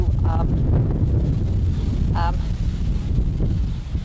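Steady, heavy wind buffeting the microphone with a constant low roar, with a couple of brief faint tonal sounds poking through.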